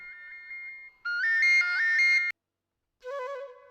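An electronic phone ringtone plays a repeating melodic pattern, louder in the middle, cuts off, then a different tone sequence starts briefly.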